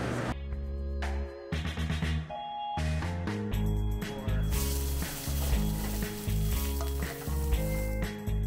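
Yellowfin tuna sears in a hot pan at a harbourside restaurant kitchen, a steady loud sizzle and crackle that carries through, layered with kitchen clatter and no talk.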